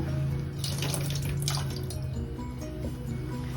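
Water running from a kitchen tap while Indian gooseberries are washed, a steady close splashing stream with some drips and rattling as the fruit is rinsed.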